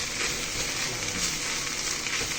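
Holy basil going into a sizzling minced pork stir-fry, Thai pad kaprao: a steady, dense hiss of frying fills the whole moment at moderate loudness, with faint stirring underneath and no voice.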